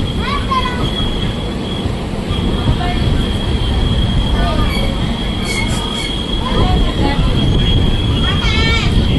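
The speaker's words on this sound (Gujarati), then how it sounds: "આ પ્લેટફોર્મ નંબર 2 ઉપર આપણી ગાડી આવી છે" A passenger train pulls in at platform 2 with a dense, loud rumble of wheels and a sustained high metallic squeal, joined by brief scattered voices in the background.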